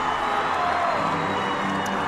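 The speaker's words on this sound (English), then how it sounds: "Now comes a Rebel cheer as they break from the bench." Rich Rebels fans and players cheer as the team breaks from the bench at a state tournament semifinal basketball game against Tabiona: a continuous crowd roar with scattered shouts, steady and loud throughout.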